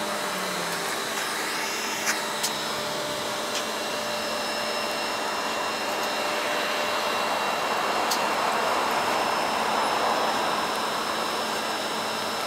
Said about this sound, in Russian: Вот троллейбус едет на автономном ходу